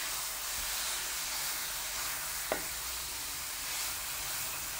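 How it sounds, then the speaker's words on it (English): Cheeseburger meat browning in a cast iron skillet gives a steady, moderately quiet sizzle and hiss, with a single brief scrape midway. "with a cast iron skillet, you get a really nice browning pretty quickly"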